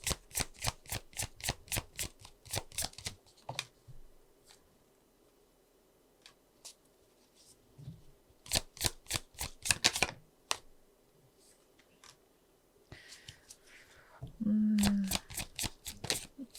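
Tarot cards are shuffled before a draw: bursts of rapid crisp riffling snaps come close and clear, separated by quieter pauses with faint handling, and a short soft tone sounds near the end.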